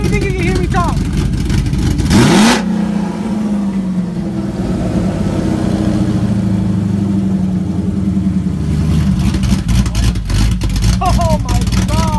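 A car engine fitted with a ghost cam, its exhaust removed, revs loudly up close in short bursts and then holds a rough, lopey idle, with people talking and shouting over it.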